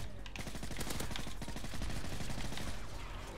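Rapid automatic gunfire from the video game Modern Warfare 3 rattles in dense bursts, loud and close, running throughout without speech.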